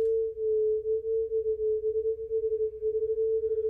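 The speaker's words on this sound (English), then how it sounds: "It's just being done to three sine oscillators at once to make things a little bit more complicated." Three modulated sine oscillators sound together as one pure steady tone, pulsing with quickening beats that swell and dip throughout, alone with no talk.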